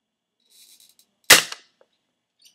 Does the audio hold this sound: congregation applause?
no